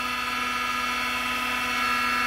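A 1 hp servo motor on an LMS mini milling machine spins at its 4200 rpm top speed, turning the spindle through a belt adapter. It gives off a steady, loud, high-pitched whine with a constant hum beneath it and no talking.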